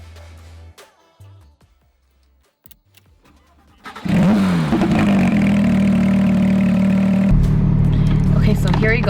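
A 2018 Porsche 991.2 GT3 with a 4-liter engine and GMG bypass exhaust starts after some quiet clicks, flaring up loudly and then settling into a strong, steady idle with a deep rumble, close by.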